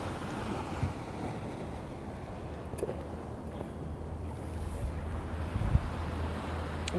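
Beach surf and wind at sunrise make a steady, broad wash of rolling waves with rumbling gusts buffeting the microphone and a few faint knocks, with no voices.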